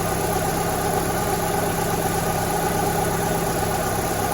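A cold Fiat 500 engine idling at steady, even revs without spluttering, a continuous close-up mechanical hum heard alone with no talk.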